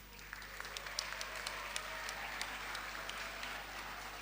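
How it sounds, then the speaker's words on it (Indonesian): Faint, scattered applause with distinct individual claps rises in a hall at Pondok Pesantren Darunnajah for a group of student leaders, steady over a low hum without talk. "Tepuk tangan untuk mereka itu"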